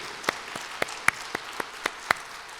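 A church congregation claps in thanks for the choir: sharp, evenly spaced claps, about eight in a steady rhythm, standing out over a quiet hall.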